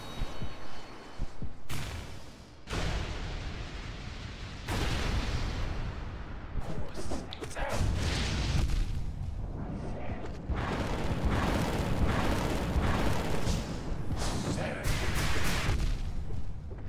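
Fire pillar attack in Hollow Knight, a run of loud roaring, crackling bursts that swell and cut off in waves, dense and continuous with brief gaps, set among game effects.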